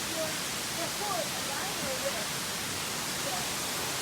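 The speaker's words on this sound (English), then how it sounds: "I can't hear you. There's a waterfall." The Wufengqi waterfall in Jiaoxi, Yilan, Taiwan roars as a constant, broad wash of falling water. Faint voices are almost buried beneath it.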